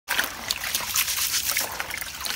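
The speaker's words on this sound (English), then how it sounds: "So we're gonna wash it till the water becomes crystal clear." Water splashing and trickling as Tuwo shinkafa rice is rinsed in a bowl, a close, busy sloshing and dribbling that runs continuously with no talk over it.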